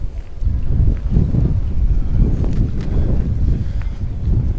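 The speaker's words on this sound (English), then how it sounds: "it's also very windy" Strong wind at an outdoor car boot sale in Santa Ponsa, Mallorca, a loud continuous low rumble and buffeting with gusty surges throughout, without talk.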